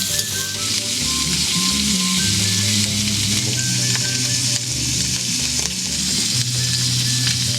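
Pork sizzles and crackles steadily on a hot tabletop grill at a campsite, a dense continuous frying hiss with faint background hum, no voices.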